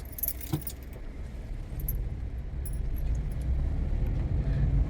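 Keys jingle briefly at the start, then a family car's engine and road rumble build steadily as it pulls away after a police check during elections, the low drone growing louder toward the end.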